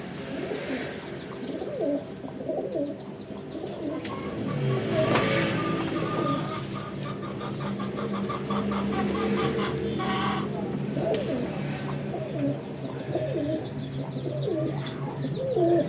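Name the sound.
pigeons cooing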